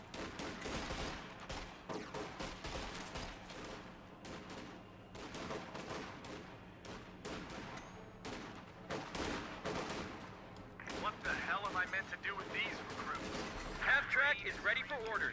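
Rifle fire crackles in a Company of Heroes 2 battle as infantry rifles overwhelm Stern Pioneers, with dense volleys of sharp shots and bursts throughout, under spoken commentary.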